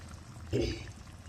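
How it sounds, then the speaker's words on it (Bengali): Hot water poured into mutton curry in a pot gives a short, close pour lasting about a quarter second, with a soft splash against faint room noise. "এবার একটু গরম জল দেখুন আপনারা এর মধ্যে ঢেলে দেবো, অল্প একটুখানি"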